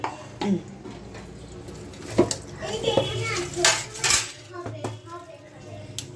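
A dirty utensil gets washed in a kitchen sink while coriander mash is being made, with intermittent clinks and clatters of metal and dishware and someone talking in the background.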